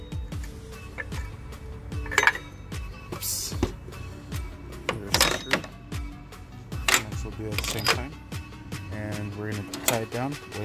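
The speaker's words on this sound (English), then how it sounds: "just go ahead and tighten that screw all the way down" A 14 mm speed ratchet spins down the screw of a new automatic belt tensioner on a 2014 Nissan Frontier, giving repeated close clicks and ratcheting bursts at an uneven pace.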